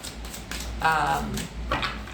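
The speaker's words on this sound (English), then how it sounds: "I'm going to stick to shuffling like this today" Tarot cards are shuffled by hand in soft, papery riffling bursts beneath a steady background hum, with a voice talking alongside.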